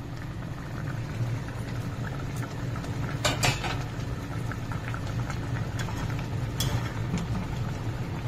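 A pot of hilsa and eggplant curry bubbles at a steady simmer, a soft continuous boil with small pops and a few brief clinks of the lid or utensil.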